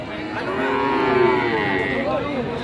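Cattle at an Indonesian livestock market give a long, loud, close moo that rises and falls over a couple of seconds, with a second lowing call near the end over steady market background noise.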